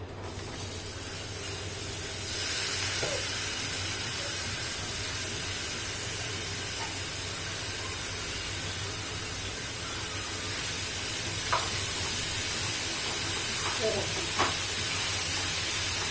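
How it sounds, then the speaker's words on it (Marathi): Cooked moth beans (matki) hitting a hot pan for spicy misal pav set up a steady, broadband sizzle that runs throughout, swelling slightly partway and punctuated by a few faint clinks. "आता आपण यामध्ये जी शिजवून घेतलेली मटकी आहे ती टाकून घ्यायची आहे"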